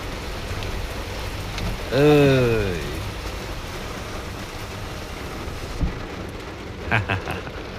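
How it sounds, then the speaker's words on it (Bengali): Heavy rain falling outside a closed window, a steady soft patter throughout, joined briefly by a rising, wavering voice-like tone and a few faint knocks. "ভালো বৃষ্টি হচ্ছে।"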